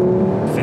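Engine of a 2015 Audi RS3 Sportback on a track, a loud, steady close drone that briefly swells.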